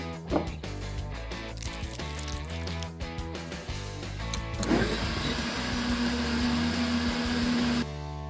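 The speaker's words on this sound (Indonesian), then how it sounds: "Blender semua." An electric blender starts partway through and whirs steadily, blending crab and chopped vegetables. Its loud, even motor drone follows a stretch of earlier kitchen sounds and then cuts off abruptly.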